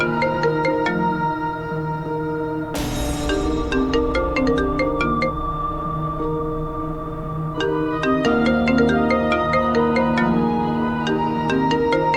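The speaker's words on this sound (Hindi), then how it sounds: "धानी फोन रिसीव नहीं कर रही है।" A melodic electronic ringtone plays continuously, its chiming notes repeating in a steady looping pattern, fairly loud and alone.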